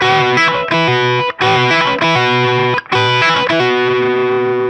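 Distorted electric guitar plays a rock riff with an added up pick, loud chunky chord hits in a repeating pattern with brief gaps between phrases, close and unaccompanied.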